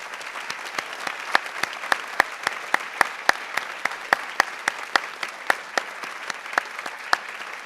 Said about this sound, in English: I would like to give you guys a round of applause as well